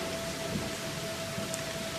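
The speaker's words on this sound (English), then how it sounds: "we are getting hammered with rain" Heavy rain pours steadily outdoors in the mountains during a hike, a dense, constant hiss with no breaks, as a thin steady tone runs through it.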